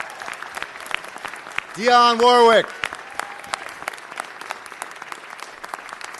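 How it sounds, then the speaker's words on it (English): A city council chamber crowd gives a sustained round of applause honoring a singer, a steady wash of clapping with a voice briefly announcing over it midway. "one more round of applause for our living legend"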